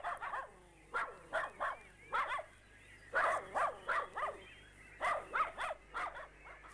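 Several dogs let out into a garden in Kenya bark near and loud in rhythmic clusters of sharp barks and yips, separated by short quiet gaps.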